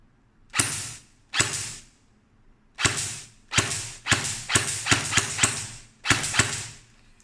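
An Nwell M4 airsoft rifle fires on semi-auto, giving about ten sharp mechanical snaps, first spaced apart and then in a quicker cluster, close and clear with nothing else around them.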